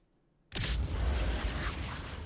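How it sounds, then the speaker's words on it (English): Explosions in the space game X3: Albion Prelude, a sudden rumbling blast after a near-silent start that turns into sustained loud booming. "all I hear is explosions"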